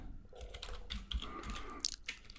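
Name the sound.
typing on a computer keyboard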